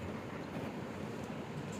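A train in the Gangs of India video game rumbles past in a steady, dense roar of low noise that stays even and continuous from start to finish.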